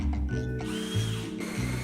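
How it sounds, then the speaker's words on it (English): A power drill bores holes for a cable line in a basement being studded, giving a mechanical whir with a rising and falling motor tone over rough, ratcheting clatter. "While he was drilling holes for the cable line, I started drilling holes for the electrical line."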